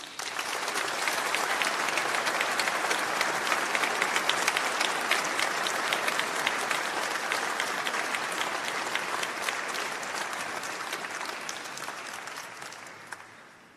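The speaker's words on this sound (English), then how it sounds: "So please join in a round of applause for all these individuals." Sustained applause from a large graduation ceremony audience, dense clapping holding steady for over ten seconds before gradually fading.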